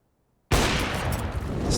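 Rapid gunfire from a Counter-Strike match on the Dust 2 map bursts in suddenly after a moment of silence, a dense, sustained barrage of shots that continues loud to the end.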